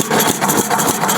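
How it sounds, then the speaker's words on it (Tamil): Old kerosene-fuelled farm engine of an earlier model running steadily in a village setting, a continuous mid-pitched chug with light rattle, loud and close, with no talking. "மாஸ்டர் இன்ஜின் பார்த்தீங்கன்னா ஃபுல்லாக மண்ணெண்ணெயால் ஆனது."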